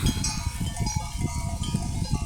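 Sheep in a village at Saraç bleat in short, repeated cries close by, several overlapping calls over a busy outdoor background.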